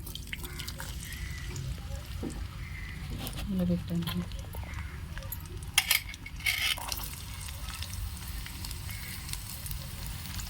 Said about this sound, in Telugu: ఆయిల్ అయితే వీటైందండి. ఉల్లిపాయ అయితే వేసేసుకుందాం.